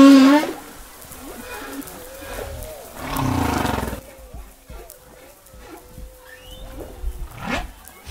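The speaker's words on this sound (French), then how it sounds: "Alors ça, c'est une baleine à bosse." Humpback whale song recorded off Madagascar, long moaning tonal calls that rise and fall, with a few deeper rumbling swells and brief higher whoops, heard clearly with no other sounds around them.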